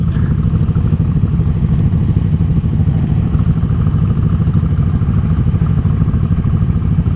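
Several motorcycles, including two BMW S1000s, a Ducati Panigale 899 and a Yamaha Bolt, rumble at idle nearby, producing a loud, steady low engine drone with faint clattering and no speech.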